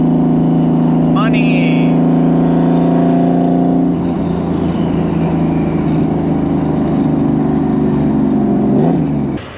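Subaru WRX STI fitted with a flat-six engine, droning steadily from inside the car while driving, with a brief rise in revs near the end and a short spoken word early on.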